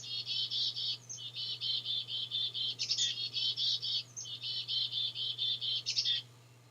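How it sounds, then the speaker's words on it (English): Repeated bright chirping notes from a chickadee near a rusted tin birdhouse in a tree, steady rapid calls running almost continuously with brief pauses, over a constant low hum. "That's a chickadee."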